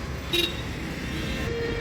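A single short, faint tractor horn toot with a broken setting rises briefly over a low engine rumble and outdoor noise.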